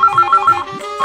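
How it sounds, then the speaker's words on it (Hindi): A phone rings close by with a bright, repeating electronic ringtone. Its quick, evenly pulsed melodic tones run steadily through the whole moment. "निमिषा का फोन।"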